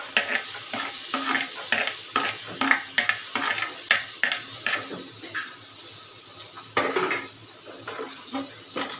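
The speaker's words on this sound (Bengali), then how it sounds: "একটু হালকা করে লাল লাল করে ভাজা করে দেবো।" Chopped carrots fry in a pan with fennel seeds, giving a steady sizzle broken by frequent rhythmic scraping strokes of a spoon stirring against the pan, close and fairly loud, with no talking.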